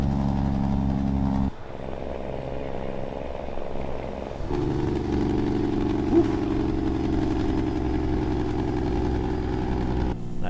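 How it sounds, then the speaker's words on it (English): Truck engine in American Truck Simulator, heard from outside the cab while pulling a tractor as a load: a steady low idling rumble, fairly quiet and continuous, with a slight shift in tone partway through. "It sounds way better outside the truck."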